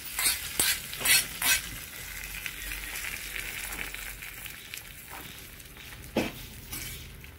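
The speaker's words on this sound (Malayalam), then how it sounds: "നമ്മളിപ്പോൾ ഇത് കടുക് വറുത്ത് ഇതിനകത്ത് ഒഴിച്ചിട്ടുണ്ട്" A hot mustard-seed tempering is poured into carrot pachady, opening with a few loud crackling bursts that settle into a quieter, lingering sizzle and an occasional stir.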